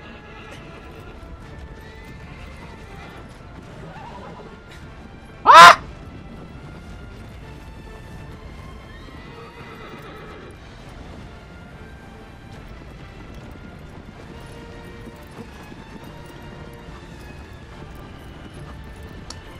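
A horse in the Shadow of the Colossus video game lets out one short, loud whinny that stands out sharply against quiet ambient game background, with faint hoof sounds elsewhere.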